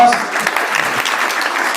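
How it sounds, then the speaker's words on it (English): Conference audience applauding steadily and loudly throughout, a dense wash of many hands clapping with no pauses. "And one more round of applause"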